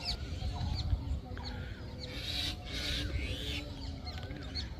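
A parrot and a myna fight over a shared nest, giving a run of harsh squawks and chattering calls, some shrill and close, over a noisy outdoor background.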